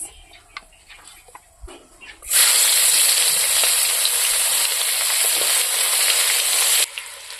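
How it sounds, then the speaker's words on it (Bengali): After quiet light clatter, raw onions and whole garlic cloves hit hot oil and a loud, steady sizzle starts at once and keeps going before cutting off near the end. "পেঁয়াজগুলো তো ভাজা ভাজা হয়ে গেছে দেখুন কড়া কড়া হয়ে গেছে"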